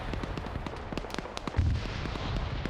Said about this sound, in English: Hearing explosions go off on the other objective.